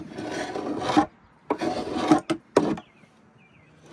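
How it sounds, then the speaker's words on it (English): Hardened, rock-hard residue is scraped off wooden beehive equipment with a tool: three or four close, gritty rasping strokes separated by short pauses, with no talking. "So just a quick scrape, and this side sometimes works better."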